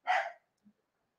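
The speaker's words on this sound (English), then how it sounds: "And why my dog is barking," A single sharp dog bark sounds close and alone, followed by a faint low huff.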